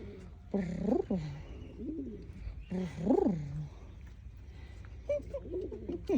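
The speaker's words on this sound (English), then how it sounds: "No, this is pigeons." Pigeons coo nearby at Wildlife Prairie Park in soft, repeated rolling calls, three main bursts separated by pauses, with faint background sounds between.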